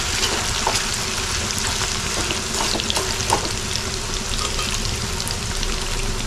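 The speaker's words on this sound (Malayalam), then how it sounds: "എന്നിട്ട് നമ്മുടെ ചെമ്മീനൊന്ന് അതിനകത്തിട്ട് വറുത്ത് കോരി വെക്കാം" Prawns for prawn pickle fry in hot oil with a steady, close, crackling sizzle that runs throughout, punctuated by a few soft clicks of stirring.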